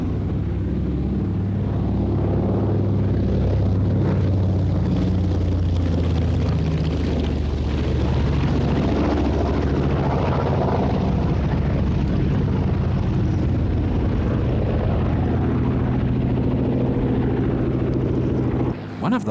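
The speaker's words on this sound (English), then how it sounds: "The first aircraft to display was the consolidated Catalina, owned by Plain Sailing Limited." Consolidated Catalina flying boat performing at an air display, a steady loud drone of piston engines sustained throughout with broad rumble and some wind buffeting on the microphone.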